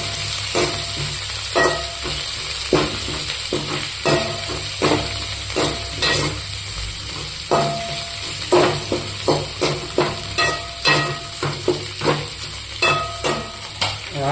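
Dried red and green chillies fry in a pan for a spicy chicken dish, a constant sizzle broken by a long run of close spatula scrapes and stirring knocks, with no talk.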